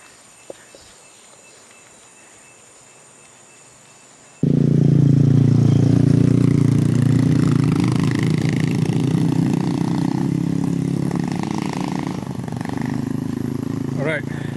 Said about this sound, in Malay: korang nampak dua motor tadi tu